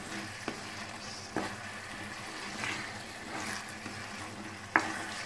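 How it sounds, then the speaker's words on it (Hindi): Peas being stirred into a spiced potato curry (dum aloo) in a pan, with a soft continuous sizzle and a few light scraping knocks of the spoon at irregular intervals, close and fairly quiet, no talking. "मटर के दाने अच्छे से मिक्स करेंगे इसको"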